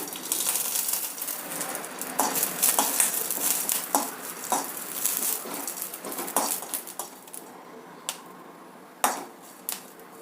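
Garlic and curry leaves roasting in oil in a pan for a Malnad-style snack, a steady soft crackle with scattered spoon scrapes and light clinks against the metal, close by with no talk.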